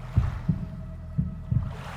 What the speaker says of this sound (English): replacing the sound of the buzzing lights with the thunderous pulse of my own heartbeat